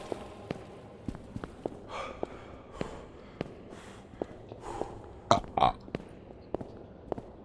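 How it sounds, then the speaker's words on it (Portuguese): Burp with an echo in the horror video game Escape the Backrooms, a short guttural eruption standing out from quiet scattered footsteps and small clicks, with faint breathy sounds around it and no clear talking. "O arroto com eco, muito bom"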